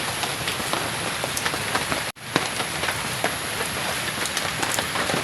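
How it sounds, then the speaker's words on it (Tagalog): Heavy, relentless rain falls in a rural province, a dense, loud hiss of drops on surfaces with scattered sharper splatters, continuing almost unbroken apart from a split-second dropout. "Parang walang hinto yung ulan dito."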